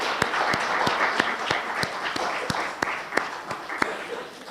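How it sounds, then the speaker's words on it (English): An audience at a university lecture applauds educators with a steady wash of clapping, punctuated by a few sharper, louder individual claps, continuing throughout without speech. "Please join me in recognizing them with a round of applause."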